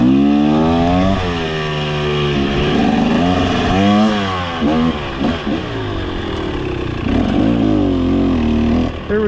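A 2023 300cc dirt bike with an RK Tek head races along a snowy, wet trail, its engine loud and close with steady revving that rises and falls throughout.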